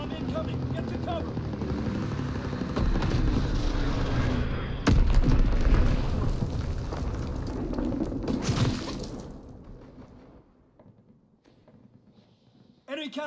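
Bomb explosions and gunfire rumble through a video game battle on the Gustav Cannon map: dense, loud, continuous noise with a sharp blast near the middle, fading toward the end while a voice speaks over it.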